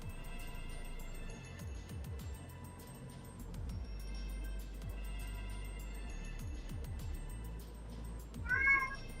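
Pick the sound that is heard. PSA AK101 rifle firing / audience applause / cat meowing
cat meowing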